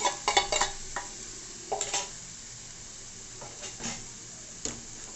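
Saag greens already fried in a pan, with vegetables being stirred in: a few sharp spatula scrapes and clinks come early and a handful more follow, spaced out over a faint, steady sizzle, with no voices.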